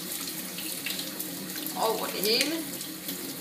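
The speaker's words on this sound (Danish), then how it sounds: "De skal skylles rigtig godt og grundigt under koldt vand." Cold tap water runs steadily into a sink as rocket leaves are rinsed, a continuous splashing stream with brief shifts as the leaves are moved, while a voice speaks over it.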